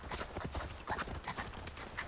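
Hooves clatter in a quick, busy patter as goats run past in the Far Cry Primal video game, a steady close clopping rhythm spread across the whole moment with faint cries above it.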